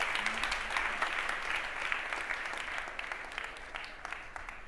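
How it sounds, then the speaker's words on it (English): A conference crowd at a summit arena stage applauds in a full, continuous burst of many hands, fairly distant and evenly sustained, tapering slightly toward the end without speech. "Big round of applause."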